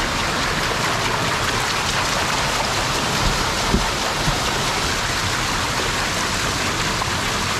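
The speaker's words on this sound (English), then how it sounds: "You can see the water sucking through there." Water rushing through a partly opened gate on a hydroelectric water wheel, a dense, steady hiss and churn that holds constant and fairly loud throughout, with a couple of faint low knocks midway.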